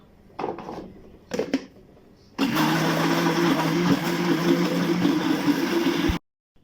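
An electric blender whirs loudly and steadily for about four seconds, pureeing dates softened in very hot milk with a little baking soda for an oat cake, after two brief short pulses; it then cuts off abruptly.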